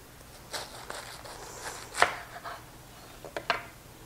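A knife slices around a head of cabbage for pineapple coleslaw, giving a few separate, soft chopping thuds spread out in time, with the sharpest cuts near the middle and toward the end.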